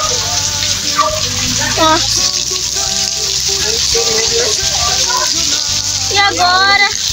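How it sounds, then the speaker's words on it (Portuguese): Heavy rain pours down in a steady, broadband wash throughout, with two people talking loudly over the downpour from close by. "Como é que a gente vai voltar pra casa com esse pé d'água?"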